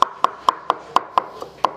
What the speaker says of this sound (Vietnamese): Đập tỏi, băm tỏi quý vị ạ.